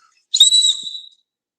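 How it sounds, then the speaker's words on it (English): A safety whistle built into a cheap magnetic compass gives one shrill, piercing blast of under a second, close and loud, then cuts off, with no talk. "It's dirt cheap, but it has a safety whistle."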